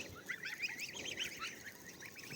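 Geese honk and cackle continuously in a noisy chorus, fairly close, with no talking.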